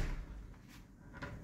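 A hotel room wardrobe door opens in a Da Nang hotel, a soft, quiet cupboard-door sound that is brief and muffled over low background noise.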